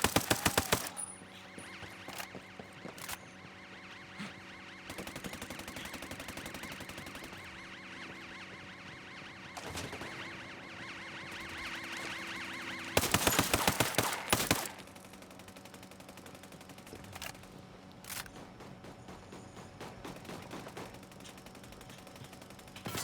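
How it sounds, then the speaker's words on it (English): Gunfire in the video game Ghost Recon: Breakpoint, a quick burst at the start and a longer loud rattling volley midway, with scattered single shots over steady game background tones. "Firing at the enemy."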